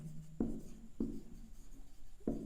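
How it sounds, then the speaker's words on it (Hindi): Chalk or marker writing on a board during a class 10 trigonometry maths lesson, three distinct scratchy strokes spaced at irregular intervals, close and fairly quiet with no talking. "तो यहाँ लिखेंगे"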